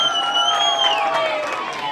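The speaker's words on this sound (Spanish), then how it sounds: "un aplauso fuerte para La Guajira" A crowd at an outdoor stage presentation of carnival dance troupes cheers and whoops for the La Guajira group, with shrill sustained shouts and whistles riding over a busy mass of voices.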